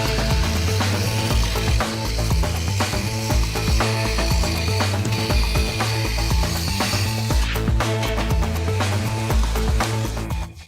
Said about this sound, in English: I'm going to use a 36 grit sandpaper.